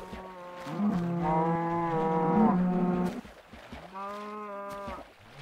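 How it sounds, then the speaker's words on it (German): A mooshroom cow in the Minecraft video game moos twice, one long drawn-out low call followed by a shorter second moo, clear and close with no talking over it. "Die kleine Milka-Kuh mit Pilzen."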